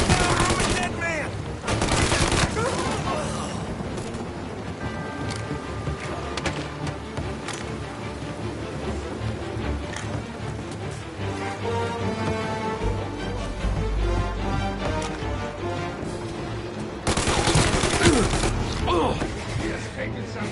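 Near-continuous gunfire fills a shootout in the crime game Mafia, with rapid bursts, single cracks and heavy thumps. Voices shout over the shooting, and the loudest volleys land near the start and end.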